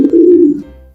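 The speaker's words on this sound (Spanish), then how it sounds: "a la paloma cantando" A dove cooing in a morning garden, one short, low, mellow coo close by that fades away quickly.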